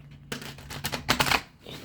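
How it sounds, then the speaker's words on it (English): Tarot cards shuffled by hand at close range: a quick run of crisp riffling and slapping bursts that builds to a denser flurry in the middle, then stops. "Last shuffle."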